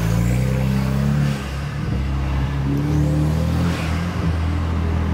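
A modified BMW 320i engine drones steadily and loudly, with rising and falling turbocharger whine as it accelerates, heard from inside or close to the vehicle.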